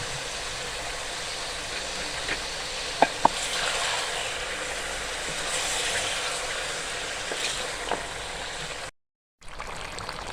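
Garlic ginger paste stirred and frying in a pot for a chicken makhni handi, giving a steady sizzle with a few sharp scraping clinks, close and continuous, broken by a brief silent gap near the end.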